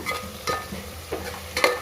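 Ginger and garlic frying in oil with vegetables for a vegetable biryani: a low, steady sizzle under soft stirring scrapes, fairly quiet and close.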